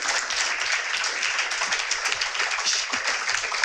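Audience applause for speakers closing a startup founders panel, with a steady wash of clapping held at even loudness throughout and no voices over it.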